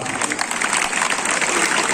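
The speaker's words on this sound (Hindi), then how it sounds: "आप सब उनसे उनका जोरदार तालियों के साथ एक बार" Dense applause from a large audience at a foundation day celebration, steady and loud throughout with no pauses.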